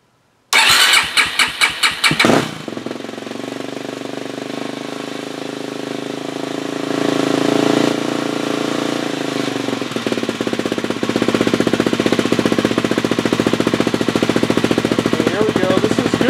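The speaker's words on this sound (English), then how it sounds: "hopefully I'll start this engine up" A Suzuki LTZ400 ATV engine, which has a battery-charging fault, cranks with a few rapid chugs, catches, and settles into a loud, steady idle that rises slightly and keeps running.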